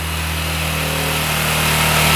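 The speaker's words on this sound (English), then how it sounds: "Instantly fired up. Let's see if it revs out though." Small scooter engine idling loudly right after starting, a steady buzzing drone with strong low harmonics that rises slightly as it begins to rev, close by with no talk.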